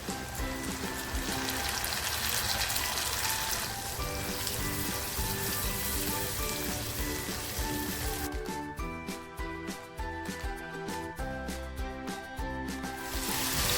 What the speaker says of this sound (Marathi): मसाला छान फ्राय झाला आहे